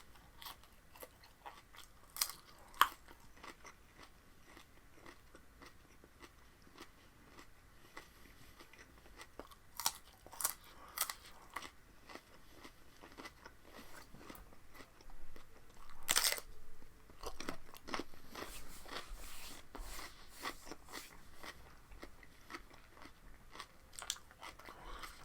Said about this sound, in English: I'll be careful not to eat my cucumber too fast.